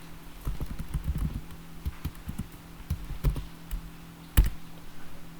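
Typing on a computer keyboard while writing Python code, close irregular clusters of light key taps with short pauses and one firmer keystroke near the end, no talking.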